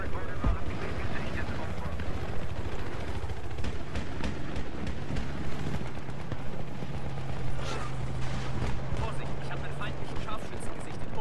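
A helicopter's rotor drones steadily throughout under Battlefield 3 multiplayer gunfire and rapid popping shots, with a voice talking over the noise.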